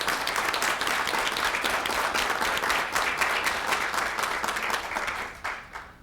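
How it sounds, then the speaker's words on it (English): Applause from those attending a school board meeting, a full, even patter of many hands that tapers off at the close. "So I think we should give them applause."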